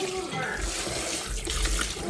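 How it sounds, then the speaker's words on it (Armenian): Food is rinsed under a running kitchen tap, the water pouring in a steady, close splash that shifts slightly as the items are moved through the stream. "Լավ լվանում ենք հոսող ջրի տակ"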